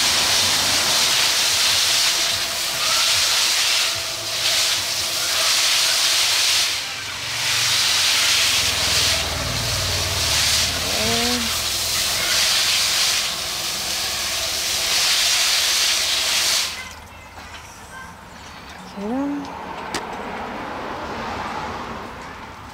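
A continuous loud hiss of water spraying over ivy foliage runs for most of the stretch, then drops to a softer, lighter spray near the end.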